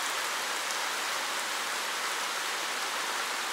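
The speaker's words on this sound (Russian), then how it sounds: "Прям ливень-ливень. На втором этаже чувствуется, как бьет по крыше." A heavy downpour drums on a house roof, heard from an upper floor as a constant, dense, hissing roar with no breaks.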